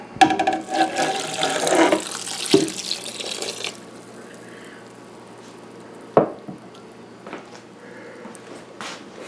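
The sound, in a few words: pouring white vinegar into a pot for relish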